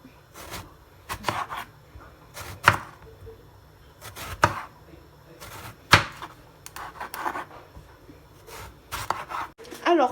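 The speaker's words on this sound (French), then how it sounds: "je coupe mes aubergines" A knife cuts aubergines on a board in irregular, crisp, close chops separated by pauses, with no one talking.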